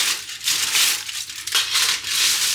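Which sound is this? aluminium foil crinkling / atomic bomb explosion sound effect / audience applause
aluminium foil crinkling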